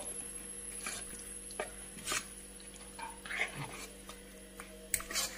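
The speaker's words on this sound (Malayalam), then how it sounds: "ഇനി ചക്ക കൂട്ടാനിലേക്ക് ആ ധൂമിച്ചത് ഇട്ട് കൊടുത്തിട്ട് നന്നായി മിക്സ് ചെയ്യാം" A spoon stirs jackfruit curry in a pan, soft intermittent scraping and clinking over a faint steady background hum, with a few sharper taps, close and quiet.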